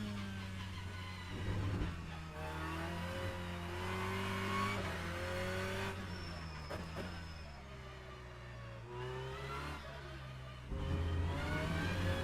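A BMW 330i racing car in the sim rFactor 2 revving through a tricky corner, engine note climbing and dropping through gear changes with tyre noise, steady and close, a sharp rise near the end.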